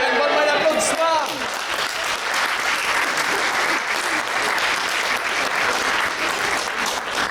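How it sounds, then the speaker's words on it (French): An improv theatre audience breaks into sustained, dense applause after a match. The clapping is loud and even and runs throughout, with a voice speaking over the start. "Moi, je donnerai une bonne main d'applaudissement."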